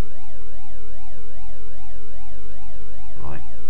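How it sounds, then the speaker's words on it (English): A police car siren in the Amstrad CPC game Chicago 90: a loud, chiptune-style electronic wail rises and falls in quick even sweeps, with a short crash-like burst near the end. "Got all the other police cars chasing him now."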